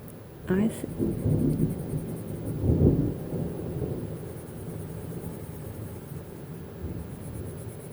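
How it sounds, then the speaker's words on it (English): Thunder rumbles through an approaching thunderstorm, a low rolling swell rising near the start and again midway, then fading into a steady dull background roar. "That thunderstorm is approaching now, but I will keep coloring as long as possible."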